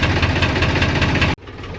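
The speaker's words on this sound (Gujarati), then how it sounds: "નીકળી છે પાછા ટ્રેક્ટર લઈને" Tractor engine, a tractor parked on a slope because it would not start, chugging in a rough, knocking idle for over a second before cutting out abruptly into near silence.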